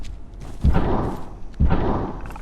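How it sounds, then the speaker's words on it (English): Jump pad in the game Abiotic Factor with several pests banging on it: two heavy, booming thuds about a second apart, each followed by a rumbling, noisy decay, loud and close. "that noise is the jump pad and multiple pests banging on it"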